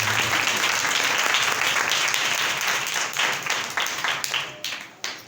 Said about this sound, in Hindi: ज़रा ज़ोरदार तालियां बजाने के बाद